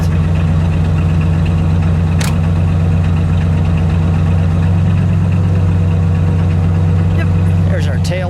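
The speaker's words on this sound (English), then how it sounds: "listen to that exhaust." A 1958 Cadillac Eldorado Biarritz convertible idles steadily with a deep, rumbling exhaust note, close and constant, with a faint click or two in the background.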